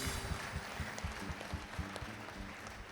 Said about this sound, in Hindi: ये ताली आपकी बड़ी छोटी वाली है।